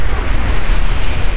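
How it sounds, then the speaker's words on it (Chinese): A car blows up in the video game Fallout 4, a dense, sustained low rumbling boom that fills the whole moment with no pause, loud and close with no voices over it. "跟住车会爆炸喺呢个 game 里面"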